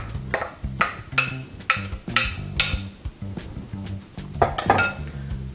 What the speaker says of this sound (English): Once you have all your tomatoes crushed or processed, go ahead and add it to a saucepan.